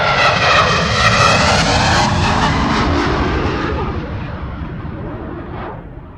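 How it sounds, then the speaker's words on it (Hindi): A jet plane passes overhead with a loud, broad roar that starts at full strength and slowly fades as the aircraft moves away, with no voices over it. "जेट प्लेन की आवाज सुनो।"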